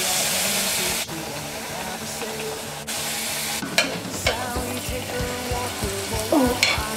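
Bread slices fry in oil over a low flame, a steady close sizzle with crackling bursts and a few sharp clinks of utensils against the pan.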